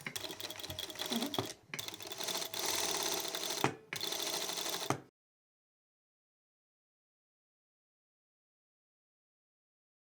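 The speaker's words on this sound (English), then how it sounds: "Now start sewing. So I'm using the right groove in the presser foot." A sewing machine stitches a zipper using a zipper presser foot, a loud rapid mechanical whir running in three bursts with brief pauses, then cutting to silence.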